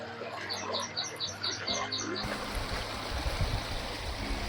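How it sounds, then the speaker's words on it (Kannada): A small stream on the Rangadhama hill trek trickles and gurgles steadily outdoors, with birds chirping in the first half. "ಸಣ್ಣದಾಗಿ ತೊರೆ ಎಲ್ಲ ಹರ್ಕೊಂಡು ಹೋಗ್ತಾ ಇದೆ."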